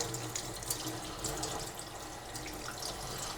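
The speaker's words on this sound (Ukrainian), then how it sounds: "Я обично промиваю м'яско, да?" Raw meat for frying chops is rinsed under a running kitchen tap: a steady close stream of water hisses and splashes, broken by small spattering bursts as the meat moves under the flow, with no voices.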